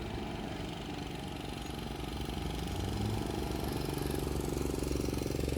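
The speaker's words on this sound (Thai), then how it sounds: "เสียงเร่งเครื่องครับ" A heavy Hino Victor truck engine rumbles at idle, then revs up and holds a louder, rougher drone, close by and steady, while reversing down a slope.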